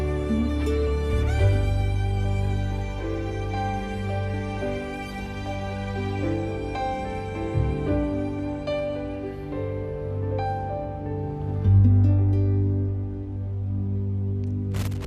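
An Australian cellist plays a song on cello as a slow, sustained, lyrical melody over soft accompaniment, continuous and unhurried with no talking.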